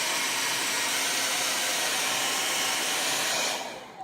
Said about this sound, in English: I take the blow dryer and I blow it dry.